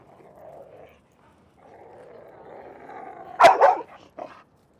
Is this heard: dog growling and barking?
yes